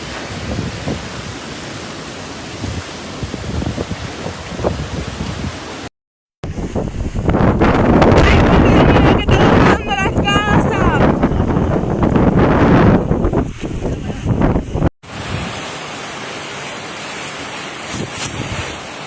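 Hurricane winds and driving rain lash Santiago de Cuba, a loud roaring wash of wind noise and downpour across several cut-together shots, with one brief silent gap, no speech.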